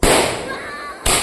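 Close, loud Diwali firecrackers burst in quick succession, an explosive crack with a long noisy tail followed by another sharp bang near the end, while people talk in the background.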